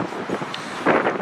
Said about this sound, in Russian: Тёнка, что, ветер дует?